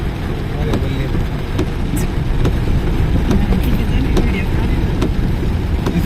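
Floodwater after heavy rain rushing over and under a bridge in Ahilyanagar, a loud, steady broadband roar with occasional sharp clicks throughout.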